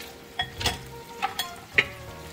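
Sliced button mushrooms with sprigs of thyme cooking in butter in a pan give a soft, steady sizzle, with a few sharp pops and clinks of stirring scattered through it.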